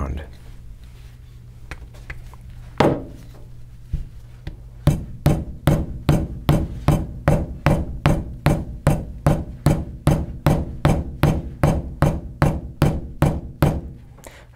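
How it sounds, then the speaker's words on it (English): Steady hammer blows ring out in a fast, even rhythm while shaping a cone-shaped ferrule knot on a bullwhip, dozens of sharp metallic strikes close by after a few scattered opening taps. "I'm almost letting the hammer do the work here"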